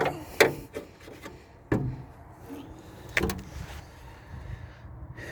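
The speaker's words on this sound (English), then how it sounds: "Trying to open the hood" Clunks and metallic knocks come from someone working the hood latch of a rusty 1980s Chevy dually pickup, a few sharp bangs spaced between quieter rubbing and scraping, close by with no talk.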